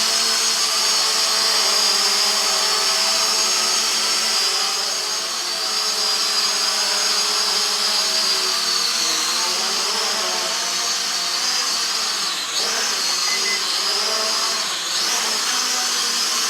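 Hubsan H502E GPS camera drone flying indoors, a continuous high-pitched motor and propeller whine with shifting tones as it maneuvers, close and loud with no talk.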